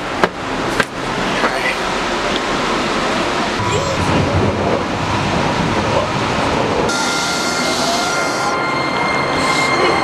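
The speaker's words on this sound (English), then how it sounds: "Train station." Dallas DART light rail train at a downtown station, rumbling loudly and steadily with faint wheel squeal and a brief clank near the start, a constant rail roar running throughout.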